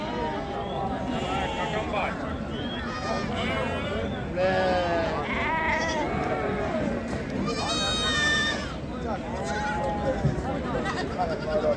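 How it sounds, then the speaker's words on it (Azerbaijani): Goats and young kids bleat repeatedly at a busy sheep market in Ganja, several wavering cries overlapping amid crowd chatter and someone talking nearby. "Deməli Fariz qardaşım keçiləridir, çəpişləridir."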